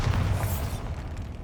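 A Bombarda spell blasts in Hogwarts Legacy, a single deep booming explosion with a rumbling low-end burst that fades over about a second, heard alone without talk.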